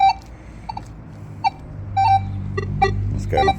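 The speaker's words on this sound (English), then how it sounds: "it just sounds like all the falsing." Minelab Manticore metal detector sounding off with false signals over iron: scattered short electronic beeps and chirps at uneven intervals, some doubled, above a low steady hum, no speech.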